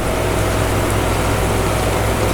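Heavy rain pours steadily onto a flooded courtyard, a dense, continuous hiss of water with a low rumble beneath, loud and close throughout with no voices.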